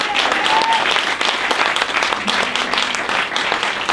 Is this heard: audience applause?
yes